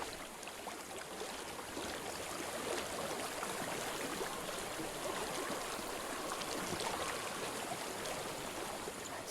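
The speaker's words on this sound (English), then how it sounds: "I hear water." Flowing water in the video game Hellblade, a steady, even rush of a stream that fills the scene at constant loudness without pause, with no voices over it.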